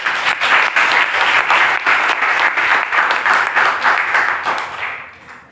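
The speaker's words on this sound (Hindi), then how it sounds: "एक बार जोरदार तालियों से स्वागत करें।" Loud audience applause greets a speaker at an Indian public event, dense steady clapping with rhythmic surges that fades out over the last second.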